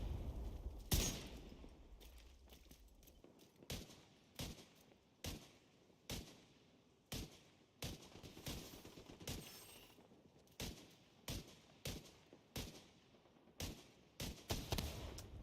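Enemy gunfire in The Division 2 video game, rapid bursts and single sharp shots cracking at a fairly even pace for the whole stretch, one louder blast near the start, fairly distant with no talk.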